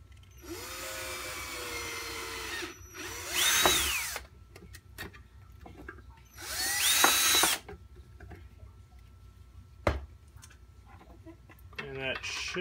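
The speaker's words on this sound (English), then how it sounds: "And drill the hole." A power drill bores a hole in a stir plate, whirring in two loud bursts with rising and falling pitch, close up, between quieter stretches with faint clicks and handling noise.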